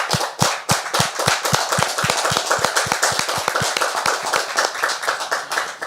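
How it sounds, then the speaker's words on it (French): Studio audience applause on a French talk show, rapid steady clapping close by, many sharp hand claps in a brisk rhythm throughout. "Est-ce qu'on peut faire mention spéciale pour elle par des applaudissements"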